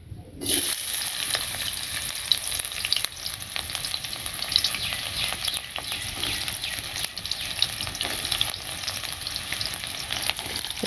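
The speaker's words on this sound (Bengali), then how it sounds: "এই কয়টা ঢেঁড়স একটু কচিয়া ছিল, তো এগুলো এখন ভেজে নেই।" Tender okra pieces fry in a hot pan, giving a loud, constant sizzle and crackle with occasional stirring scrapes and no voices throughout.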